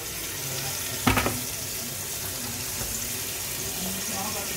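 Fish poured into hot oil in a pan, a sudden burst of sizzling spatter that settles into a steady, moderate frying hiss, with no talking.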